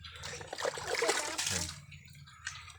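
Water is poured out to rinse animal droppings from a floor, a short splashing gush near at hand that trails off into trickles, with a voice faintly underneath.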